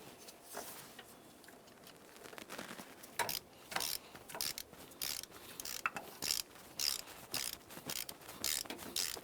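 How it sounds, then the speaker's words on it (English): A socket ratchet clicks in quick, fairly quiet bursts while installing the mounting bolts of the variable valve timing solenoid on a 2007-12 Nissan Sentra, with short pauses between runs. "Let's go ahead and carefully install our bolts."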